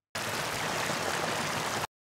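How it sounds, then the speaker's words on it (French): Waterfall sound effect, a steady close rush of falling water with broad hiss and low rumble, holding evenly for about two seconds and then cutting off, with no voices. "j'ai un bruitage de cascade."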